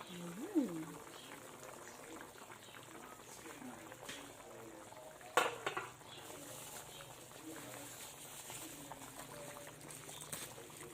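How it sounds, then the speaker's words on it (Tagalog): A papaya stew simmers in a covered pot, giving a faint, steady bubbling hiss, with a voice speaking briefly and a soft clink near the middle. "Hayaan lang natin silang kumulo."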